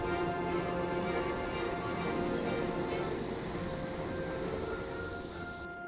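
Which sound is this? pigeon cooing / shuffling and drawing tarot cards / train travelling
train travelling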